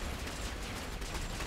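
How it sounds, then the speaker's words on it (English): Dense, continuous volley of gunfire from units battling in the real-time strategy game Dawn of War 3, an Eldar versus Orks multiplayer match, sounding as a steady, fairly quiet crackling barrage with no clear breaks. "Get them shooting!"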